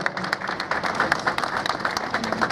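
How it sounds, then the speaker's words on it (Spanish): A crowd applauds steadily at the opening ceremony of a regional production fair, dense continuous clapping at a loud level throughout. "Fuerte el aplauso para los integrantes de la comunidad mapuche Jeraicó."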